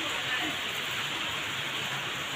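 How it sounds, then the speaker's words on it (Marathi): Heavy rain pours down in a dense, steady hiss with no breaks, a continuous wash of noise close by. "एवढा भयानक पाऊस चालू झाला आहे त्यामुळं आम्ही थांबलो आहे जरा।"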